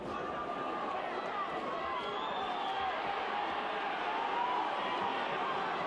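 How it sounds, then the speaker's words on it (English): A boxing crowd at a Prince Naseem Hamed fight roars steadily after the ninth round ends, a distant wash of cheering that stays constant throughout with no clear words on top. "Listen to the crowd."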